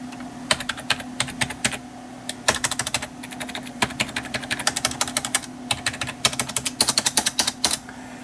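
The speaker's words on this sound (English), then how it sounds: "It is a membrane keyboard, but it's one of the better membrane keyboards I've had over the years." Fingers type on a PS2 membrane keyboard close to the mic, quick bursts of soft clacking keystrokes with short pauses between runs over a low steady hum, no voices.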